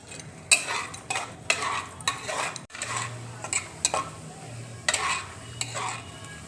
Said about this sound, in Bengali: ঘি দেখো মেল্ট হয়ে গেছে। এবার কাজুটা দেখো দিয়ে দিচ্ছি।